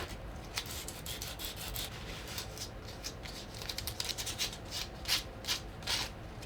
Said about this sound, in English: You can round over everything with a little bit of sandpaper as well.